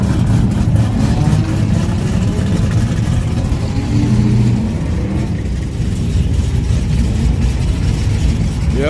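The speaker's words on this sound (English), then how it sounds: "Let me let you hear my supercharger, man." A supercharged Chevrolet Caprice engine runs loud and close in a steady idling rumble with slight shifts in pitch, heard alone.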